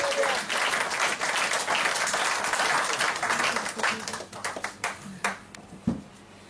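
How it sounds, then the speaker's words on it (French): A church congregation applauds during a sermon, dense sustained clapping that thins into scattered claps toward the end, with voices mixed in. "Acclamez le Seigneur Jésus."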